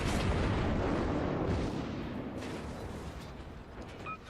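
Cruiser artillery in the naval battle game World of Warships, fired from a Murmansk cruiser at a Myogi, booms as a loud, broad rumbling blast that slowly fades and settles into a dull roar.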